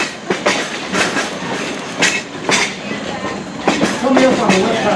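The Essex steam train rolls along the rails, its railcar wheels giving a loud, continuous clickety-clack rumble with repeated rhythmic clacks heard close from on board.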